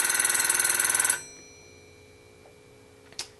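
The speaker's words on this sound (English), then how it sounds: "It's not the loudest ringer in the planet, but it does ring pretty good." A Monophone locking-handset telephone's bell rings in a fast, loud metallic trill for about a second, then stops and leaves a fading ring, followed by a faint click and a brief clunk near the end.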